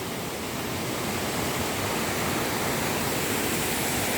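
Argyle Waterfall in Tobago roars as a steady, dense wash of falling water, loud and unbroken throughout with no voices over it.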